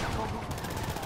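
Rapid bursts of video game gunfire from Grand Theft Auto V crackle densely over a noisy, chaotic background, with a voice mixed in faintly beneath the shooting.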